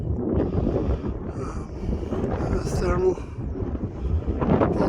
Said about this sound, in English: Man, it's windy as hell